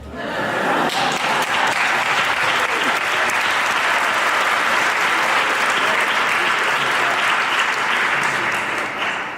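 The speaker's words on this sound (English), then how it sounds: "let's give him a round of applause" An audience at a public service lecture breaks into sustained, loud applause that fills the hall for the whole stretch.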